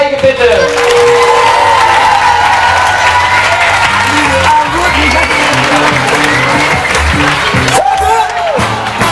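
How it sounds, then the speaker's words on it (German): A school graduation crowd applauds and cheers loudly for a DJ, dense sustained clapping with whoops, with a voice briefly speaking over it near the end. "Ein herzlicher Applaus für Niklas Steige"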